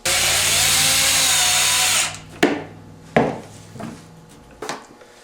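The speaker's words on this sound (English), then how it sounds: "I'm just going to put a couple of self-tapping screws right through this woven wire, right down into this pipe" A power drill drives self-tapping screws through woven wire hardware cloth into a pipe while a sparrow trap is built; a steady loud whir runs for two seconds, then several sharp metallic clicks and taps follow.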